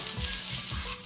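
Dry fish curry ingredients sautéing in a pan on an induction cooker at low heat, giving a close, continuous hiss and sizzle with faint stirring, steady throughout.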